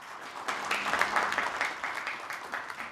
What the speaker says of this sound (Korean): 허종식 의원님께 큰 박수 부탁드립니다.